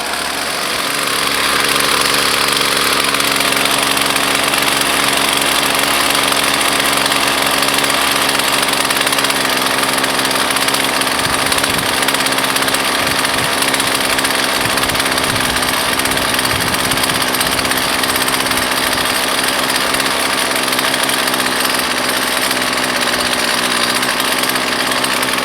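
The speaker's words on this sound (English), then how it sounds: "Now it's idling. You hear that purr, and the head is not turning." The small two-stroke engine of a Husqvarna 128 string trimmer idles close by with its head not turning, a steady, even buzzing purr that holds unchanged for the whole stretch.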